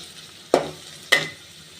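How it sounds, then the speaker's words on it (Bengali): Onions, bay leaves and whole cumin stirred in a pot, two sharp scraping strokes of a spoon about half a second apart over a faint low sizzle. "এখন পাতিলে বেশি করে পেঁয়াজ, তেজপাতা এগুলো দিয়ে এখন নাড়াচাড়া করবো"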